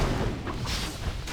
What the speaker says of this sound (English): pops off one last acid bomb